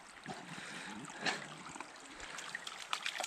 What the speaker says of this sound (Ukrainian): О, ще струмочок.